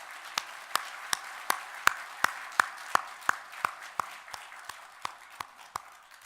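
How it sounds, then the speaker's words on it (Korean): Congregation clapping in a church worship service, sharp claps landing in a slow, strict steady rhythm about three per second, fairly faint and distant, with a faint ringing tone behind them. "하나님께 영광의 박수를 올려드리겠습니다"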